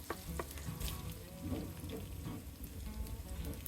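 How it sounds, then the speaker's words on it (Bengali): Chopped garlic, about two tablespoons, frying in oil in a pan for a Chinese stir-fried broccoli with chicken, giving a steady, close crackling sizzle with small pops throughout and no voices. "2 টেবিল চামচের মতো রসুন কুচি দিয়ে দিলাম। কিছুক্ষণ আমি ভেজে নেব।"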